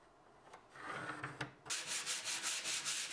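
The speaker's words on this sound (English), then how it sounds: "I sanded all the filled areas and everywhere else I needed to." Power sanding of the filled areas on an MDF bookcase during a makeover: a steady, close abrasive rasping that builds in the first second, stutters briefly, then runs loud and continuous with a pulsing rhythm.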